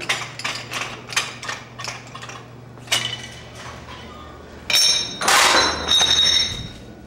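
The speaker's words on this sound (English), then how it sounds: "there's an action with the treadle hammer" A treadle hammer strikes metal during a blacksmith demonstration, delivering a quick run of ringing clanks, then a few heavier isolated blows and a jangling metallic clatter near the end.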